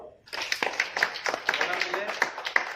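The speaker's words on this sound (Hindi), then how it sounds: "तालियां हो जाए एक बार।" An audience at a training session gives a round of applause, a quick dense patter of hand claps with sharper accents, starting after a brief pause and continuing steadily, fairly close.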